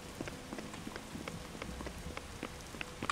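Rain in the Roblox game Roville, a steady pattering wash of drops hitting surfaces with scattered sharper ticks, moderately quiet and with no voices over it.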